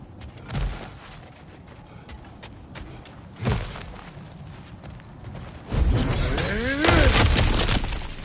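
Objects being smashed in the God of War video game: three separate crashing impacts a few seconds apart, the last a louder shattering burst with debris and rumbling that carries on to the end.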